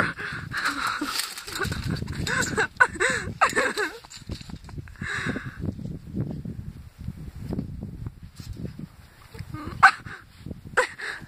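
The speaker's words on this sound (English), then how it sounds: "What are you growling for? I never seen him growl before." A dog makes low grumbling growls and short whimpery yips close by outdoors in snow, interleaved with people talking.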